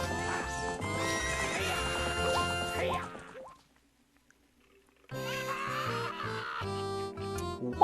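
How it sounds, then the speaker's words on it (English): Horse neighing and clip-clopping hooves in the Zelda Ocarina of Time video game, heard over game music that drops out briefly in the middle before returning. "What's up with that horse?"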